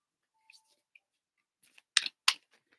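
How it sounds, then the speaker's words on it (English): A deck of reading cards is shuffled: two sharp riffling bursts, each close and brief, follow a few faint ticks in an otherwise quiet room. "Let me shuffle these cards up real quick, Trippy."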